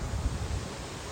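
A very loud waterfall gives a dense, unbroken roar of rushing water, steady broadband noise heard alone without voices.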